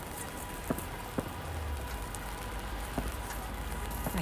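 Rain falls steadily on an umbrella and surroundings high above Sarajevo, a soft even hiss with a few sharper drop taps, faint and continuous.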